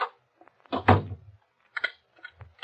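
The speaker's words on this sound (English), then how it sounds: "Close the door." An interior door swings shut with a solid low thump, followed by a few faint shuffles and a soft knock in an otherwise quiet room.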